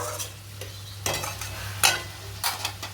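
Shrimp for a shrimp and pumpkin curry is sautéed and stirred in a pan with spices, with several scraping stirring strokes over a constant close sizzle and a low steady hum underneath.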